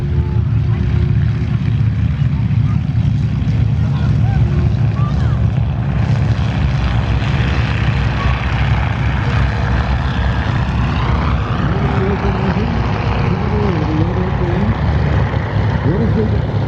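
A propeller airplane engine runs up at an airshow, a loud, continuous droning roar with rising and shifting pitch throughout, close to the listener, with people talking underneath.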